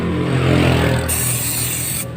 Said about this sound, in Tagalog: gagamit tayo ng CBT cleaner na Kobe. So spray nyo lang 'to mga boss.